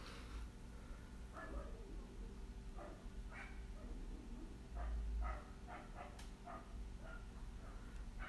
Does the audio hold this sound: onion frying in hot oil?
no